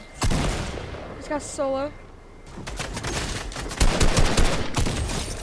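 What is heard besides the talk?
gunfire in a video game arena match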